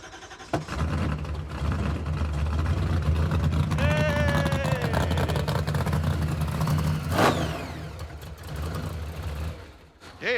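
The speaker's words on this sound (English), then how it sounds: "Trying to get it started now with the new old throttle body." A Roadkill hot rod engine fitted with an old-school Hilborn cast throttle body, cranking and firing into a loud, rumbling run with a rising rev and a whine, sustained for several seconds.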